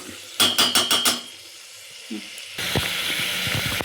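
A quick run of four metallic taps on a pot comes first, then the ingredients for a trotters soup hit hot oil and sizzle steadily, with faint crackles and stirring scrapes.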